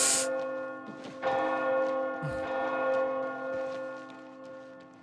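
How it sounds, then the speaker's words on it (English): Church bells in the video game Oblivion Remake ring twice, with one stroke at the start and a second about a second later. The strikes are loud, and their ringing decays quietly across the remaining seconds. "The bells always only ever ring twice. They're weirdly loud and then they just cut off."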